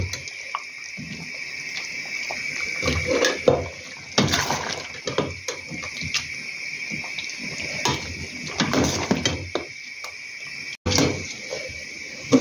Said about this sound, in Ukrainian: от бачите, перчики гарно закипіли